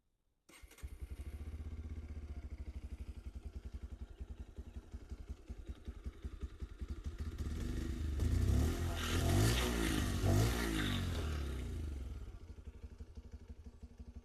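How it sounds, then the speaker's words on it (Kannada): A Bajaj Pulsar 125 motorcycle idles with a steady, even exhaust thrum close by, then the throttle is blipped in a few rising revs before it settles back to idle. No one speaks. "ಸೈಲೆನ್ಸರ್ ನೋಟೊಂದು ಕೇಳ್ಕೊಂಡು ಬರೋಣ ಯಾವ ಥರ ಬರ್ತದೆ ಅಂತ"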